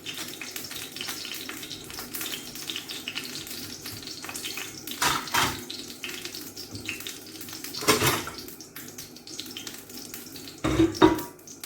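Steady crackling sizzle of vegetable oil heating in a frying pan, with occasional louder clatters and bumps of kitchen activity nearby.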